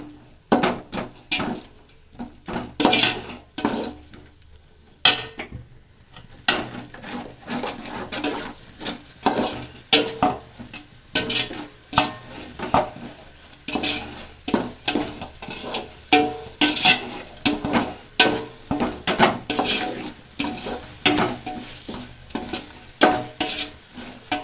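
Biryani masala with ginger and garlic being stirred in oil in a pot, repeated rhythmic scraping and clacks of a ladle over a bubbling sizzle, close and fairly loud, no talking.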